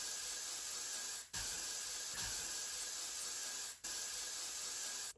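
A spray product is misted onto a lace wig install in long, steady hissing bursts separated by brief breaks, close up and fairly quiet with no talking.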